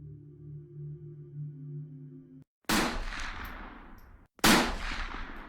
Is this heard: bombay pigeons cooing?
no